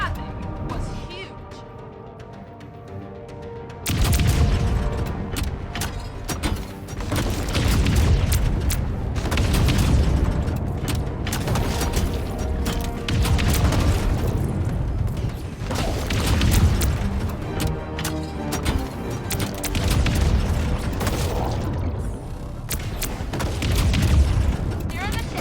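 Heavy booming shots blast at a huge target in the spaceship game Wildgate, a run of loud, deep impacts that follows a quiet opening, with a voice talking over the barrage.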